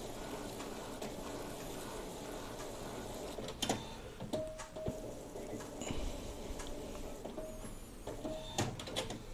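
An Epson L15160 inkjet printer with around 400,000 prints behind it works through a job: a low mechanical hum with repeated clicks, short whirring print-head passes and sharper clunks from the paper feed, heard close and alone.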